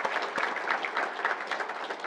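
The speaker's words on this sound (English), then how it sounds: "Let's give them a round of applause" Audience applause for boosters at a university athletics celebration, a steady crowd clapping throughout at moderate volume with no talk over it.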